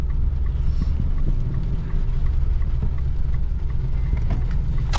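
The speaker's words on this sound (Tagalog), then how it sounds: "Yun lang guys, traffic mga tol." Road traffic in a Mitsubishi Strada pickup, a steady low engine rumble and road noise with faint passing vehicle sounds and no talking.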